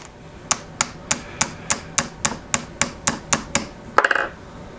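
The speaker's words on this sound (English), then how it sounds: "But that's actually the tape coming apart, and it sounds really scary." Tape beneath the crystal of a Casio G-Shock Rangeman watch gives way in a run of about eleven sharp, evenly spaced cracks, close and crisp, ending in a brief cluster of quicker snaps.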